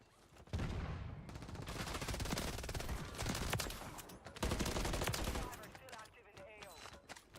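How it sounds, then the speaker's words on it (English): Mortar explosions and rapid gunfire from the Call of Duty Warzone video game crash out in dense, sustained bursts, with a second heavy barrage starting midway before thinning to scattered shots. "Oh my god, mortars are crazy."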